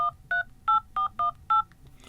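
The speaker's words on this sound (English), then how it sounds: "Let's do a little test phone call." Keypad dialing tones sound during a test call on a Xiaomi 13 Ultra smartphone, six short evenly spaced beeps, clear and close, with no talk.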